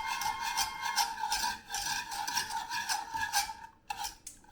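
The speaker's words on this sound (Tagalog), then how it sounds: "stir nyo lang yan mga vlogmates" Peanut butter sauce being stirred in a bowl, a steady close scraping and rubbing with rhythmic strokes, alone with no talk.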